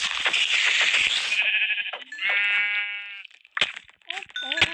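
Sheep in the Minecraft video game give several short, nasal bleats in quick succession, mixed with game sounds and people talking.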